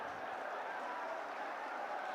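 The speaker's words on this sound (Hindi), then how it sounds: "जोरदार तालियां बजाएं आप सभी" A large crowd applauds at a Rahul Gandhi political rally in Nuh, Haryana, producing a steady, dense wash of clapping that holds at an even level from start to end without clear breaks.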